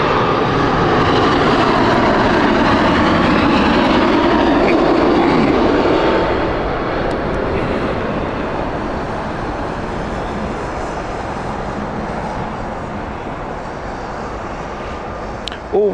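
A jet airliner flies over Heathrow Airport, its engine roar loud and broad at first, then fading gradually as it passes into the distance.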